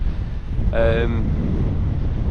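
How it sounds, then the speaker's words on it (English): Wind buffets a microphone outdoors during a day of bass fishing, making a steady, loud low rumble throughout, with a brief voiced sound partway through. "Yeah, wind's picking up."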